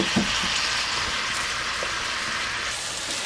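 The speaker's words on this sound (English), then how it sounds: "Go ahead and saute that kale and onion together." Kale and onion sautéing together in a pan, a loud continuous hiss of frying with a couple of faint utensil taps near the start and no voices.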